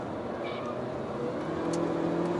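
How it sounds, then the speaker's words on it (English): Honda Civic Turbo with a CVT transmission heard from inside while driving: a steady, fairly loud mechanical engine and drivetrain drone with road rumble, continuous and without breaks. "the rather dramatic mechanical sound from the engine and transmission"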